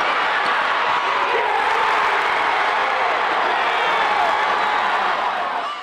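A roaring crowd fills a sold-out arena at a Golden Eagles game, a dense, steady wall of cheering and shouting that holds loud and close throughout, with scattered clapping mixed in.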